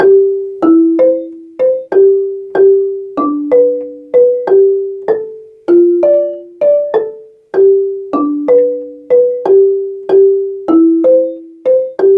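A slow, even melody on a wooden mallet instrument, each note struck clearly and ringing briefly before the next, played alone.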